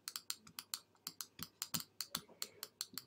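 Computer mouse clicks while painting a mask in image-editing software: a steady run of about fifteen sharp, close clicks at an even pace, with no voice.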